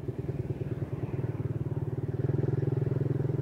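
A Suzuki motorcycle engine idles and runs unevenly with a carburetor needing jetting, producing a close, rhythmic low thumping pulse that grows slightly louder toward the end, with no talking.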